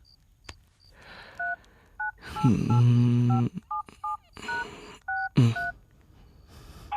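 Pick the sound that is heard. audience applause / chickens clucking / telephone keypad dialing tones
telephone keypad dialing tones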